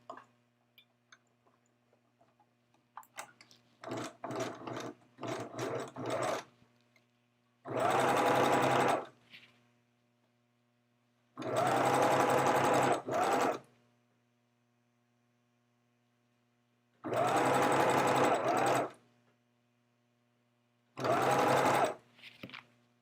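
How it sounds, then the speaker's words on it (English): A sewing machine stitches a garment from the bottom up in a home sewing class. After some light ticking, it runs in four loud, steady bursts of a few seconds each, separated by pauses, over a faint mains hum. "I'm gonna sew from the bottom up"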